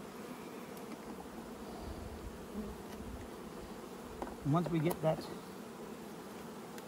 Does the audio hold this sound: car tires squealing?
no